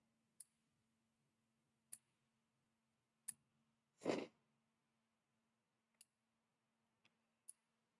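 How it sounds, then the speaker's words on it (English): Fingernails being cut with nail clippers indoors: five sharp, isolated clicks spaced a second or more apart, plus one longer, breathy burst in the middle, with no talking. "I gotta cut my dang nails, bro."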